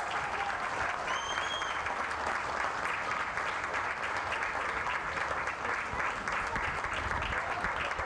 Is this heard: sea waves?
no